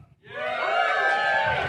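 Comedy club audience at Sneaky Pete's erupting in a loud burst of cheering, whooping and shouting after a brief pause, sustained for over a second.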